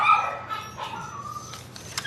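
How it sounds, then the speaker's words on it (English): Dogs at a dog rescue house give short barks and whimpering yips, a few brief calls over steady indoor background. "Of course, we're going to have barking"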